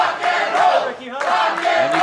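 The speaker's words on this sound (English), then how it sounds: "And you can hear this crowd coming alive as Ricky Morton's doing everything he can." A wrestling event crowd chants and yells in rising surges, a loud mass of voices in an indoor arena, swelling twice over two seconds.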